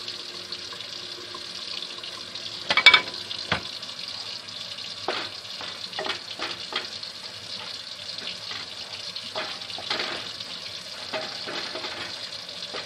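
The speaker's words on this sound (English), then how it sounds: "Let me put a little bit more water in there." Plain water runs and splashes into a pot in intermittent bursts, with a few sharp clanks near the start; no one speaks.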